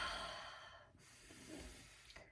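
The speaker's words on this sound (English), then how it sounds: "Take some deep breaths." Slow, deep breathing during an anger-release exercise: a long, airy exhale fades out, followed by a softer drawn breath and a nasal, snort-like intake, close and quiet with no talking.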